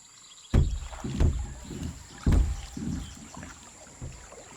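Canoe paddling on swamp water in the video game Assassin's Creed Liberation, with several soft, rhythmic paddle strokes and splashes close by, each a low swishing push through the water, over a faint steady ambient hiss.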